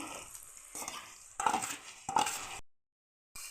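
Godavari prawns frying with onion, curry leaves and a spoon of paste, a steady sizzle broken by several stirring scrapes and utensil clinks, close, then a brief silence before the sizzling resumes.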